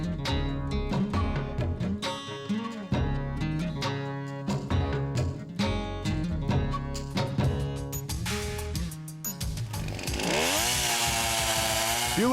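A chainsaw runs in the taiga forest by a river, cutting wood with a loud, buzzing whine that shifts pitch between cuts and revs up sharply toward the end.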